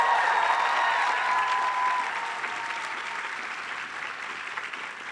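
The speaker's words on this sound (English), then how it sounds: "So a round of applause for the staff who put this whole thing together." At a School of Public Health commencement ceremony, a large audience applauds the staff with broad, steady clapping that fills a big hall, easing slightly but continuing throughout.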